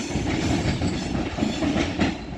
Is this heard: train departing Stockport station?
yes